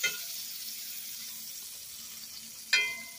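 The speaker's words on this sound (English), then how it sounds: "Cook them up nice and good there before I add my steak to the pan." Shrimp fry in a pan ahead of steak, giving a soft, steady, faint sizzle, with a brief clatter at the start and another near the end.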